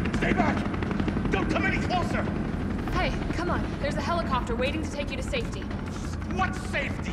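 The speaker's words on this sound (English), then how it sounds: "There's a helicopter waiting to take you to safety." A helicopter in the Resident Evil 3 (2020) video game drones steadily beneath a busy scene, with game characters talking over the constant rotor rumble throughout.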